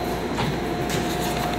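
MARTA Red Line subway train riding southbound toward the airport, a steady rumble of wheels and car noise with a constant hum, faint clacks and a brief rise in hiss midway.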